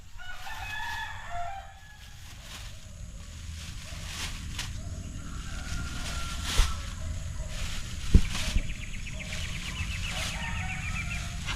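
Chickens cluck and squawk nearby in a rural yard, with a rooster crowing among them, irregular calls scattered over a steady outdoor background.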